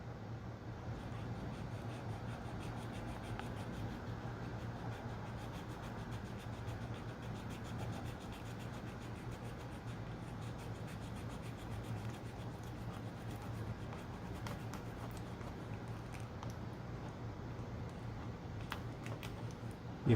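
A blade slices through a glued, pleated Roomba vacuum filter, the glue grabbing the blade, giving a steady close scratchy sawing texture that runs continuously with no talk.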